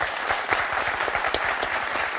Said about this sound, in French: on va applaudir très très fort Laure et Tristan